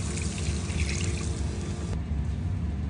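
Water pouring into a pan of frying mutton and onions for Goan vindaloo, a continuous close splashing trickle that stops abruptly near the end, over a low kitchen hum.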